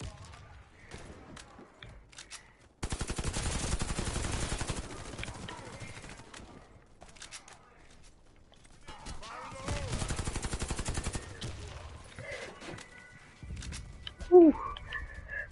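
Gunfire from the online shooter Warface: two long, rapid automatic bursts, loud and continuous, with scattered single shots and game effects between them.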